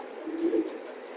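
A racing pigeon gives a single short, soft coo, close and clear over a quiet background.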